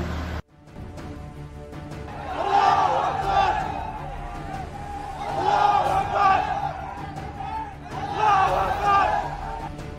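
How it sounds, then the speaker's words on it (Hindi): A crowd gathered after two arrests in Uttarakhand, India, chanting religious slogans in loud surging waves, three swells of massed voices rising and falling over about ten seconds, close and shouted. "वहां भीड़ बढ़ने लगी और लोग अल्लाहू अकबर के नारे लगाए"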